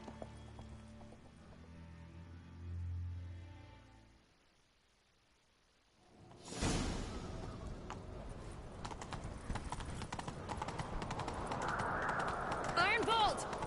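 Horse hooves galloping in The Witcher 3, a dense rapid clatter that starts abruptly partway through and keeps running loud to the end, mixed with game music and ambience.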